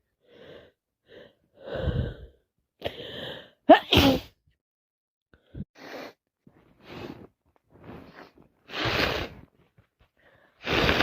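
A person with a cold gives a series of wet sneezes, several close and loud bursts with gasping build-ups and breaths between them, separated by short quiet gaps.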